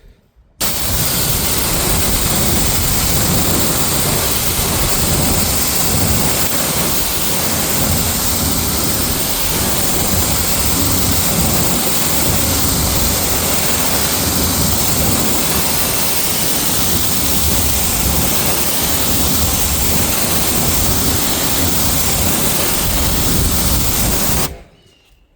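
Water spraying onto car wheels to rinse off wheel cleaner, a steady, loud hissing rush that runs almost unbroken for about twenty-four seconds before stopping.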